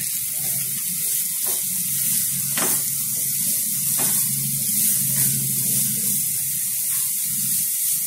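Ginger, garlic and carrots fry in oil in a pan, giving a steady, close hissing sizzle with a few sharp crackles and pops, with no voices over it.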